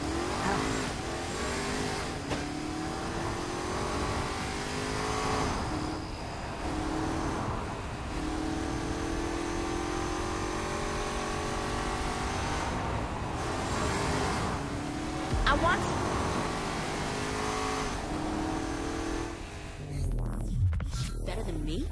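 A car drives in the video game Saints Row IV, its engine revving and shifting in rising and falling sweeps. The engine stays loud and close almost without a break, with brief tire noise near the end.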